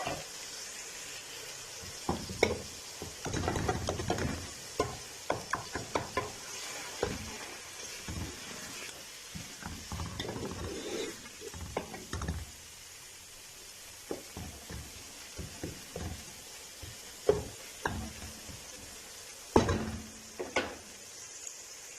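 Eggs cooking with softened tomatoes in a pan, a faint background sizzle broken by repeated clattering spoon and pan knocks at irregular intervals.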